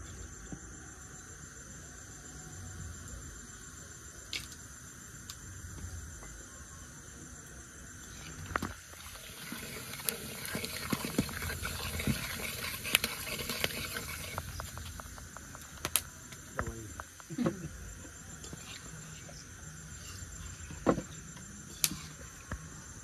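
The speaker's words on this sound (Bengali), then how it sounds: "ফুট পাট করে ফুটছে। গরম মশলা ফোটে" Whole garam masala with cumin, cloves, cinnamon, cardamom and peppercorns sizzling in hot oil for a chicken curry, giving scattered sharp pops and crackles over a steady low frying hiss that grows busier midway.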